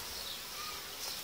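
Honeybees buzz around a beehive frame in a steady, close, droning hum that fills the whole moment without pause.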